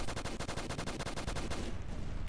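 Rapid automatic gunfire from a Roblox knockoff of Team Fortress 2, a dense string of evenly spaced shots for most of the clip before trailing off into a rumbling wash.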